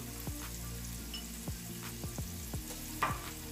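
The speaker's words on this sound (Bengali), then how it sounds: "আমি পেঁয়াজটার সাথে সামান্য কিছু টমেটো কুচি অ্যাড করে দিব" Chopped onion and tomato fry in a pan, giving a soft, steady sizzle with a few light stirring taps, faint and close, with no talk and a low background hum.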